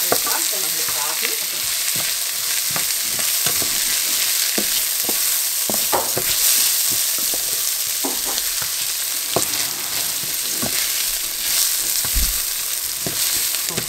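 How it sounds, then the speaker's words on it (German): Rice being fried in a pan, a continuous loud sizzle with scattered clicks and scrapes of stirring across the whole stretch, near and without speech. "der Reis ein bisschen mit angebraten werden."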